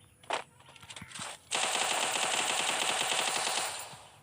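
Automatic gunfire in the mobile shooter Garena Free Fire during a 1v1 custom match, a few isolated shots followed by a sustained loud rapid burst lasting about two seconds, with no voices.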